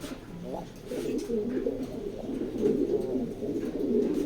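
Racing pigeons in cages at the Molla Racing Loft coo steadily and softly, a low rolling murmur beneath a voice.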